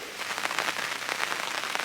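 Rain patters steadily on surfaces beside the River Severn during a fishing session, a dense crackle of close drops with no voices.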